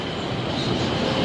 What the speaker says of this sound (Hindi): ये देखो मेट्रो